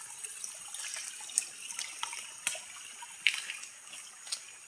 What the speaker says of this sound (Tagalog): Daming tubig lumalabas dahil lagi umulan.